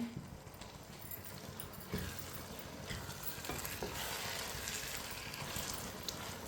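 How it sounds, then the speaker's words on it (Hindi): Tomatoes cooking in a pan for Hyderabadi chicken biryani, stirred with a spoon, give a steady faint sizzle broken by soft scraping clinks of the spoon against the pan. "इसे भी इसी तरह चम्मच चलाते हुए पकाएं।"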